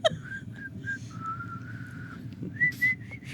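A person whistles a short wavering tune, a few clear notes with one long held tone, fairly faint against a low room hum.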